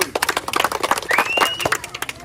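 An audience at a village game claps for a contestant, with a brief burst of quick, loud hand claps close by, mixed with voices in the crowd.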